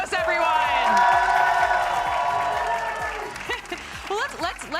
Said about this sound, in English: please give it up one more time for Okeanos, everyone!